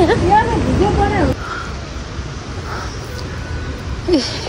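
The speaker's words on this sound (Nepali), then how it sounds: "सेतो पानी बग्दो रहेछ होइन" White water of the Seti River in Pokhara, Nepal, rushing in a steady, loud broadband roar, with a person speaking briefly at the start and another short voice near the end.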